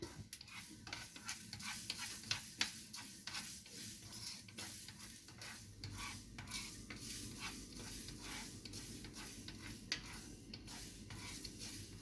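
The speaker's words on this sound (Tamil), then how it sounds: "கடுகு லைட்டாக பொரிய ஆரம்பிக்குது" Mustard seeds beginning to pop in hot oil while onion thokku is being cooked, a soft steady sizzle with rapid faint crackles and occasional sharper ticks, quiet and close, with no talking.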